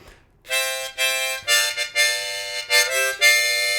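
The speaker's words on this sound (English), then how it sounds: "We're just breathing it into the harmonica." Harmonica breathes out the rhythm of a song in a series of short and held chord bursts, close and clear with no talking.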